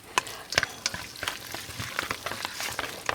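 Pig ear salad being tossed with white sesame and Sichuan pepper powder: repeated crisp clicks and scrapes of utensils against a bowl, with a wet sizzling texture in between, close by and steady, with no talk.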